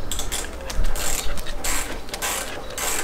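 A socket ratchet loosens a bolt on a motorcycle wheel, giving repeated clicking pawl bursts in short irregular strokes, close and fairly loud, with no voices.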